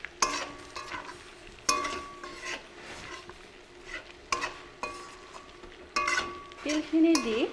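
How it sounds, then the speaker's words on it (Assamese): Chicken pieces with sesame seeds stir-fried in a pan for Assamese chicken curry: close, repeated spatula scrapes and metal clatters come in bursts over a low, steady sizzle. "তিলখিনি দি 5 মিনিটমান এনেকৈ ভাজি থাকিম।"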